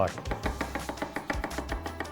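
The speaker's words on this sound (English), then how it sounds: "we're just going to chop up some fresh garlic" Kitchen knife rapidly chopping fresh garlic on a board, a fast, steady run of light taps heard under people talking.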